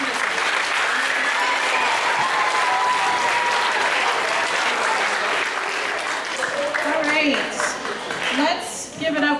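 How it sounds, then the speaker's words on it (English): Audience applause at a school performance event, dense clapping from a crowd that tapers off as voices and cheers rise toward the end. "So a round of applause"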